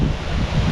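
Strong outdoor wind gusting against the microphone, a brief, loud, continuous rushing roar with no voices.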